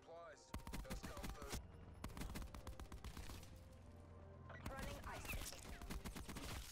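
Rapid automatic gunfire rattles in dense bursts during a Black Ops 4 match, loud and close, with brief pauses between volleys and a faint voice now and then.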